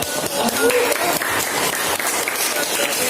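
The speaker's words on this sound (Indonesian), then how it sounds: "Tepuk tangan dulu semuanya ya." Students clap together in a classroom, a dense burst of applause that fills the room for a few seconds, with scattered voices and talk mixed in under the clapping.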